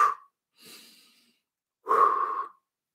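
Slow, controlled breathing close to the microphone: a sharp exhale, a softer inhale, a pause, then another longer, forceful exhale, each separated by silence.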